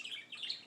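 A pet bird chirping in a brief burst of quick, thin high-pitched tweets, close and soft, with no talk.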